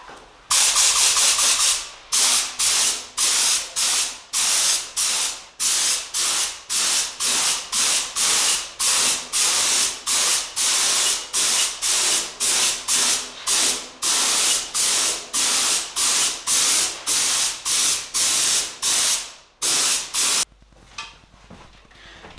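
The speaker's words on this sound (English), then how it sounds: "I loaded the transparent acrylic primer in the spray gun" A spray gun with a 1.4 mm nozzle sprays transparent acrylic primer onto a bicycle frame, hissing in rapid repeated bursts, loud and close, each short blast separated by a brief pause, continuing steadily for about twenty seconds.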